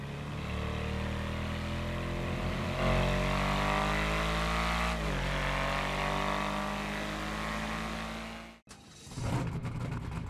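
Pegassi 8F Drafter in GTA Online revving and driving, a loud sustained engine drone with rising and falling pitch through gear changes, then an abrupt cut and brief harsher roar near the end, no talking.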